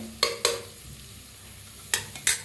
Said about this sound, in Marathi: तर बघा कडधान्य कसं सगळं छान असं भाजलेलं आहे